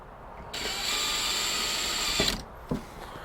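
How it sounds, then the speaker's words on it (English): A steady high-pitched whir of a power drill boring into cedar runs for a couple of seconds, then stops, followed by a couple of sharp knocks. "I need to drill a hole right there."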